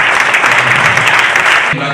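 Audience applause at a conference debate on youth empowerment, a dense steady clapping that fills the clip loudly before easing off near the end.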